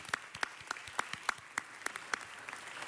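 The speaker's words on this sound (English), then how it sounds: "Let's give him a round of applause" A small audience at a city council meeting gives a round of applause for a community leader. The clapping is thin and sparse, with individual claps easy to pick out, and fairly quiet throughout.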